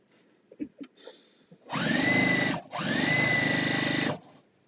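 A sewing machine stitching fabric runs in two long, steady bursts, a short pause between them, after a few soft handling clicks, fairly close and with no talk.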